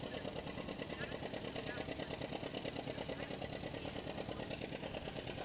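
Two-cylinder John Deere tractor with a 2-barrel carburetor running steadily at a barnyard tractor pull fair, a fast even putting throb under outdoor crowd noise.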